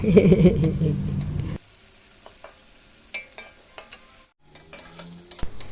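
Food fries in a pan of oil reused from frying salted fish the night before. A loud, dense sizzle fills the first second and a half, then drops away to a quiet kitchen with a few faint clinks and taps.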